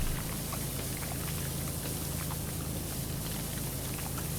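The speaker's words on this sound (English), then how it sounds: "is that your new, like, sprayer? That is, like, vibrating like that?" Pressure washer sprayer running in PowerWash Simulator, a continuous loud hissing spray with a low vibrating hum underneath, steady and unbroken throughout.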